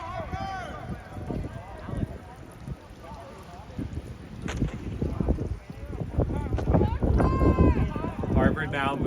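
Wind buffeting the microphone at an outdoor Rutgers versus Harvard rugby match, rumbling gusts that swell and grow louder toward the end, mixed with distant crowd and player voices across the pitch.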